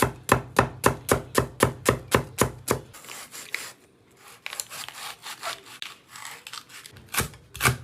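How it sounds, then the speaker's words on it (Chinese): Onion and green pepper being cut on a wooden board: about a dozen fast, evenly spaced knife chops close up, then scattered scraping and lighter irregular cuts after a short pause, with no talking. "切点洋葱和那个青椒"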